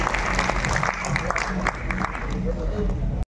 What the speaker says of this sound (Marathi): टाळ्या जरा जोरदार येऊ द्या प्लीज.